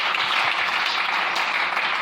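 A church congregation applauds steadily, a dense, even wash of clapping that holds at full strength throughout with no voices rising above it.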